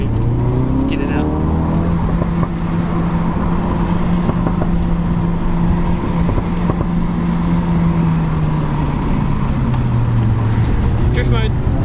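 Ford RS engine droning loud and steady on a mountain touge road, pitch rising and falling with throttle changes, continuous throughout.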